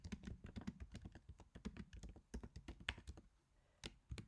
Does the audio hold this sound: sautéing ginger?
no